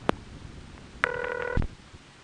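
A 1974 crossbar telephone exchange in Van Nuys: a sharp click, then a short burst of ringback tone that ends in a thump, heard clearly on a phone line with no speech.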